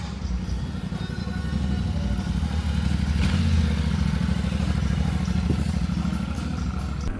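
Yamaha Ténéré 700 adventure motorcycle being ridden, its mid-pitched engine droning steadily and loudly throughout with a rough, rumbling texture and no speech over it.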